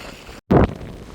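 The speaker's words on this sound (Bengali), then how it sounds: "বাইরে প্রচুর বাতাস বাতাসের জন্য বসতে পারতেছি না" Strong wind outdoors at a park in Saudi Arabia buffeting the microphone with a low rumbling roar, cut by a brief dropout and then a loud gust.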